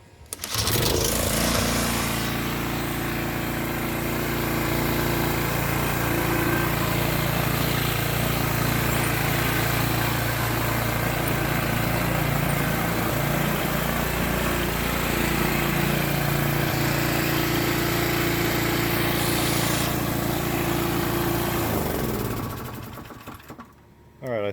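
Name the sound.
Toro TimeMaster 30in lawn mower engine running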